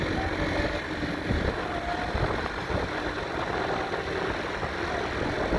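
A motorcycle engine runs at a steady, continuous rumble, close and fairly loud, on a cold night outing, with no speech over it.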